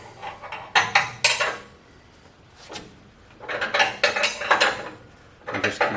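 A wrench turns a coil spring compressor while a spring is installed on a C2 or C3 Corvette, in short bursts of metallic ratcheting clicks separated by quiet pauses.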